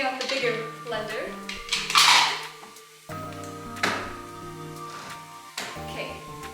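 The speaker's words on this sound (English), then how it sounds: "Taking out the bigger blender." Hard clattering knocks and thuds as a blender is taken out of a kitchen cupboard, with a few sharp clanks, up close, plus a low steady hum in the background.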